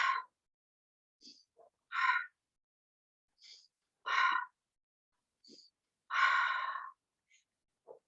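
Slow breaths drawn in through the nose and pushed out through the mouth during a guided breathing exercise, several separate breathy puffs spaced by silences, close and fairly soft.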